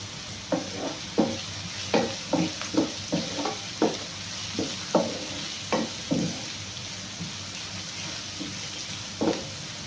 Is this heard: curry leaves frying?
yes